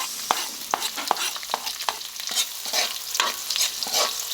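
Onion sautéing in crab fat (taba ng talangka) in a pan, with repeated sharp stirring scrapes and a steady close sizzle between strokes, no talking.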